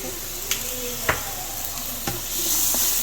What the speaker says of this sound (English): Then we'll just saute our shrimpies here.